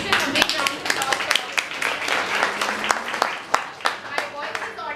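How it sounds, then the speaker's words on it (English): A seminar audience breaks into a round of applause, dense overlapping claps from a room of people, steady and moderately loud, with speech mixed in underneath. "A big round of applause."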